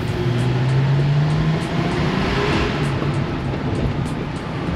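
A car engine idles and hums steadily during a sound check, a fairly loud continuous drone with a slight rise in pitch early on and no voices over it.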